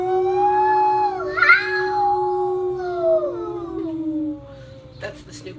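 Voices imitate a Snoopy-style dog howl together, a long wavering sung howl that slides down in pitch, followed by a short burst of laughter.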